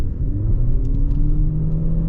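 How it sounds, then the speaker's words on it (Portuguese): A 2026 BYD Song Plus hybrid SUV accelerates, its combustion engine joining the electric motor with a steady mid-pitched rumble and rising whir heard from inside the cabin. "ele demorou um pouquinho mais para aumentar a velocidade, porque ele entra o motor a combustão para auxiliar o motor elétrico"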